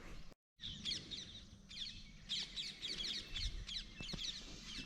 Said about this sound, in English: Check out a whole bunch of birds here.